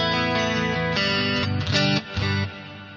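Electric guitar runs through a Boss GT-8 with a 2x12 open cabinet simulation and a Sennheiser mic model. Sustained chords ring out loud and rich, with a few chord changes and one brief break near the end.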